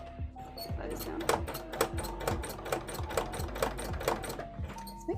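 A sewing machine stitches in a rapid mechanical rattle, its needle clattering in quick even beats, close and steady for several seconds.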